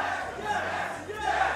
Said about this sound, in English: Here come the chant.